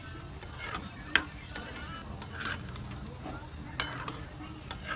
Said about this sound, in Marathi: बघा आपले शंकरपाळे मस्तपैकी असे तळायला लागले